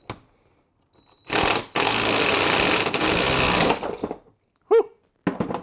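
A loud, sharp burst of mechanical noise rings out as a puller's nut is tightened on a Toyota Celica steering joint, then quieter clicks, a short exclamation and a little handling noise.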